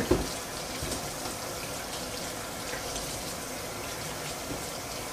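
Cabbage leaves are rinsed under a running kitchen tap, a steady close hiss and splash of water pouring into the sink with no pauses.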